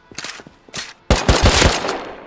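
Gunfire in the survival video game Rust: a few quick shots, a short pause, then a loud sustained burst of rapid automatic fire close by, with no speech over it.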